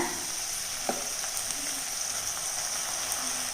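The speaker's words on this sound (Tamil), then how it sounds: "இப்போ இது நல்லா வதங்கட்டுங்க தக்காளியுமே இன்னும் கொஞ்சம் நல்லா வதங்கணும்" Tomatoes sizzle steadily in a hot pan, a constant crackling hiss with occasional light scrapes of stirring.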